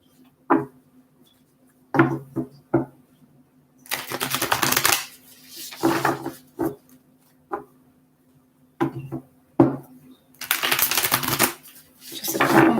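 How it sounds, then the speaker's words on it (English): Tarot cards shuffled by hand in repeated bursts, with quick riffling flurries and short taps as the deck is squared between them, spaced irregularly and heard close up. "More shuffles here."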